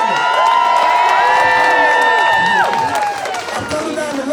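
Crowd cheering and whooping at an outdoor protest rally against mail-in ballots in a park, loud and continuous with shrill voices rising and falling throughout.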